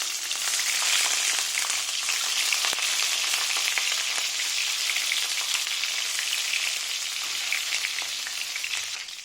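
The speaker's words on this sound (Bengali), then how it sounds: "আমি এক এক করে ডিমগুলো কড়াইয়ের মধ্যে দিয়ে দিলাম" Eggs frying in hot oil in a wok, a loud, dense, continuous sizzle and crackle heard up close with no talking.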